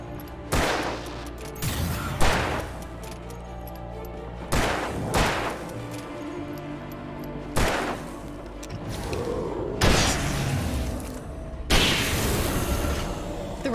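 Rifle gunfire in Alan Wake Remastered, heavy booming shots fired in separate bursts every second or two, loud and close over a low game-score rumble.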